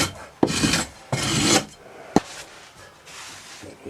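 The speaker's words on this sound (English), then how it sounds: "Once you get the box full, you strike it off, or strickle it" Rammed foundry sand in a core box being struck off flat with a strickle, giving several harsh scraping rasps in bursts with a sharp knock between them, close and loud.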